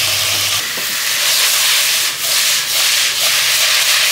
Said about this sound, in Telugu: ఒక 1 మినిట్ ఆగినాక కొంచెం పసుపు వేసుకుని దీనిలోకి మనం బాయిల్ చేసుకున్న ముక్కలు